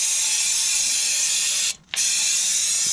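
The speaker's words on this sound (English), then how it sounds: "Just ran it with our brake cleaner." Brake cleaner sprayed onto the rear brakes of a Volvo during a pad and disc change: a loud, steady aerosol hiss running nearly three seconds with one short break in the middle.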